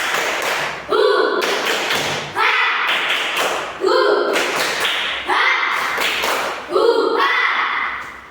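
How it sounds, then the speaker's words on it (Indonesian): Children in an Indonesian classroom perform the 'tepuk bunga' clapping chant, sharp sets of claps in a repeating rhythm under loud chanted voices, several phrases in a row. "Ya, kita tepuk bunga juga ya."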